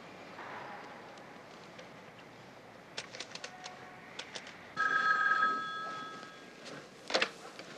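A telephone ringing in a TV crime drama scene, a short electronic trill that sounds once over a quiet room ambience with a few faint clicks.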